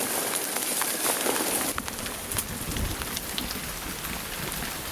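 Steady rain falls through a misty bamboo forest, a dense, even hiss of drops on leaves with occasional louder spatters, fairly close and continuous.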